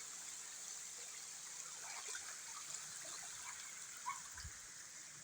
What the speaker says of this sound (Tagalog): Maagos po ang tubig.